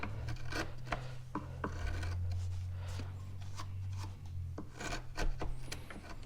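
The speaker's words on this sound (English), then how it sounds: "So now we can come in here with like a 1/2 inch chisel, kind of clear out some of that waste." A half-inch hand chisel clears waste from a wooden joint for a clock, giving close, dry scraping and rasping strokes with a few sharp taps, steady and fairly quiet over a low background hum, with no talking.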